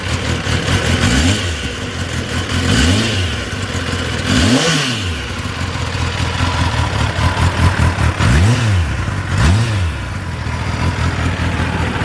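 A freshly serviced 2021 Kawasaki ZX10R motorcycle engine blipped through several sharp revs, each rising and falling quickly over an idle, loud and close, with no talking.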